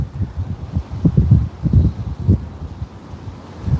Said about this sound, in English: Can y'all hear that wind blowing?